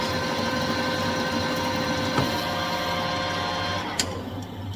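Manual lathe machining of hot rolled steel with blue chips peeling off, a steady whirring drone of the machine with a tonal whine, close and constant, marked by a couple of brief ticks.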